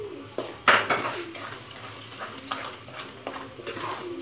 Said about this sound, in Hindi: चीनी को करेंगे हम मिक्स अच्छे तरीके से